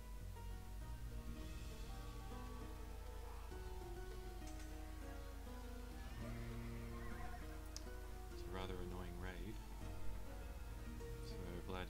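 Light cavalry in a medieval real-time strategy game lets out a brief horse whinny near the end, over continuous game music and battle ambience, while a commentator talks throughout.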